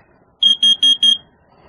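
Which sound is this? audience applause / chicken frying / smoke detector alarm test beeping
smoke detector alarm test beeping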